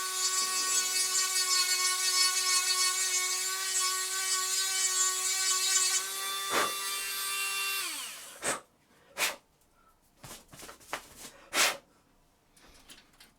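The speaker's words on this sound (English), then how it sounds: "I've got a little rotary tool here, and we'll see if we can widen that up a little bit." A small handheld rotary tool grinds to widen a plastic shaft inside an Epson EcoTank ET-16600 printer's document feeder, a steady high whine for about eight seconds that winds down, followed by several sharp clicks and knocks.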